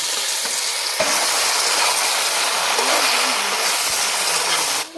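Cracked jujubes hit hot mustard oil seasoned with panch phoron, giving a loud, dense, continuous sizzle that holds steady for the whole stretch and drops away right at the end.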